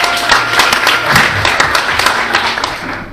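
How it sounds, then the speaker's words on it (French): Audience at a French mentalism stage show clapping steadily for a volunteer, dense close applause lasting throughout without pause. "On l'applaudit bien fort."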